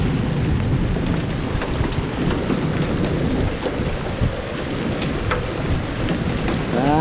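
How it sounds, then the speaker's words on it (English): A hailstorm in Winnipeg with heavy rain and damaging winds: a dense, steady roar of pelting hail and rain, with wind buffeting and occasional sharper impacts, loud and continuous with no talk. "That's some big hail."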